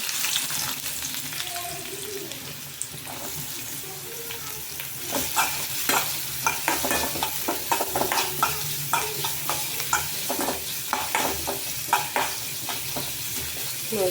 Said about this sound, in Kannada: ಉಳ್ಳಾಗಡ್ಡೆನ ಎಣ್ಣೆಯಲ್ಲಿ ಫ್ರೈ ಮಾಡ್ಕೊಂಡ್ರಿ